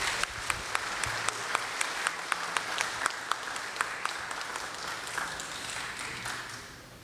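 A ceremony audience gives sustained applause, many hands clapping together with a few sharp, regular claps up close, fading slightly toward the end.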